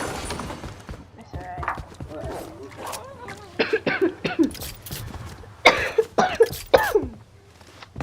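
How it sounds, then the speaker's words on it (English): A young player coughs repeatedly in short, sharp bursts close to the microphone while chatting during a battle royale game. "I still have coughs from it, so. If I cough a bunch,"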